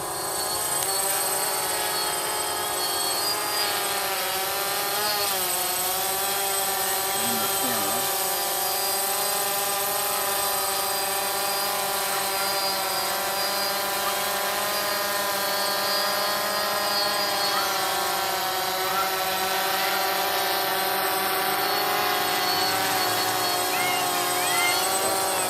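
A drone flying nearby gives a continuous loud whirring whine that holds steady and close throughout.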